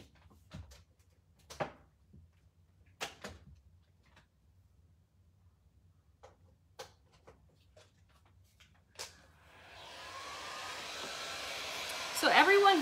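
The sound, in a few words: heat gun drying a craft project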